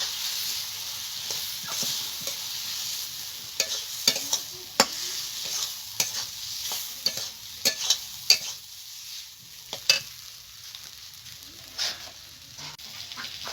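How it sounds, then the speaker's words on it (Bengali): Fried potatoes stirred into cooked spice masala in a pan: a spatula clicks and scrapes against the metal in repeated irregular strokes over a soft, constant frying hiss, close up. "মশলার সঙ্গে আলুটাকে ভালো করে কষে নিয়েছি"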